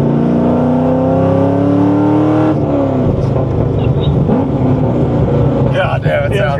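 A Corvette C6 sports car engine revs with a rising, droning tone, then settles into a throaty rumble as people talk over it.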